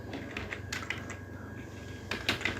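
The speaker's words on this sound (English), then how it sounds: "Now if I type print" Quiet, quick keystrokes on a computer keyboard, a short run of clicks followed by a brief pause and then a few more taps, heard close and alone.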